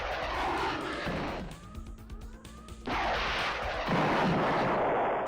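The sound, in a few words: missiles firing and exploding in video game Star Control II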